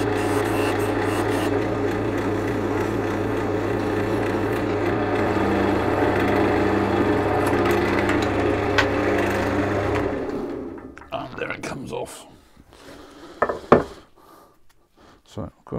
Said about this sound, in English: Got a small area there to sand off